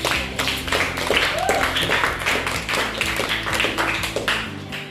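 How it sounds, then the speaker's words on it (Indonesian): A school classroom applauds a student group after their presentation, a dense continuous patter of many hands clapping for several seconds, close and steady, with some voices mixed in. "kita beri aplaus"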